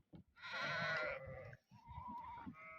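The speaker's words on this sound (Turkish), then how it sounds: "Keçiler burada da var siyah keçiler." Black goats bleat close by, first a long, loud wavering cry, then a shorter, fainter bleat after a brief pause, over low outdoor rustling.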